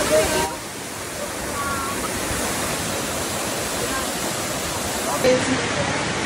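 A waterfall roars steadily in a dense, unbroken hiss of rushing water, close and loud throughout, with faint voices barely audible underneath.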